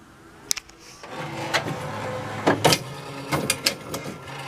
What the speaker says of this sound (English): Picks up a disc, moves it onto the tray, retracts the tray, goes over, gets rid of the robot.